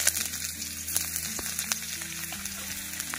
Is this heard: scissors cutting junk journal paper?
no